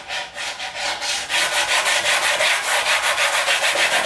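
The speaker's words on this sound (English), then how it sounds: "Low spots like this, I'll just sand across it and make sure that none of it's lipped up." Rhythmic back-and-forth sanding scrapes across a screen printing pallet, steady and close, speeding into quick even strokes, with no voices.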